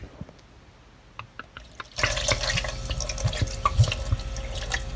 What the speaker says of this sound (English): And we're going to pour some into our freaking pan.